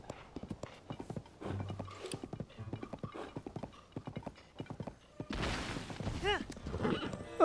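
Rapid hoofbeats clip-clop in a quick galloping rhythm in the video game The Legend of Zelda: Tears of the Kingdom, followed by a loud horse whinny and a crash near the end.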